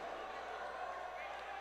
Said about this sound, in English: we're hearing the JRU cheering squad.